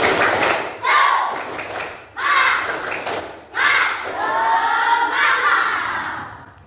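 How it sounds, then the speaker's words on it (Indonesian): A classroom group performs a rhythmic spirit clap at the start of a morning lesson: bursts of synchronized claps and thumps with children's voices shouting between them, repeated four times in a steady pattern. "mari kita sama-sama untuk tepuk semangat"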